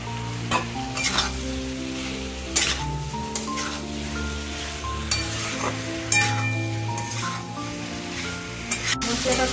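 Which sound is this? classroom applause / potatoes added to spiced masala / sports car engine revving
potatoes added to spiced masala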